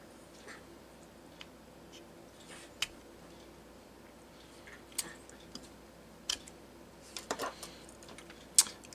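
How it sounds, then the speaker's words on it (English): A small knife works under the corner of a Game Boy Pocket polarizer, making faint, sporadic scratches and tiny clicks that come in short, irregular bursts against a quiet background. "I'm going to use this little knife to just gently get under this corner here"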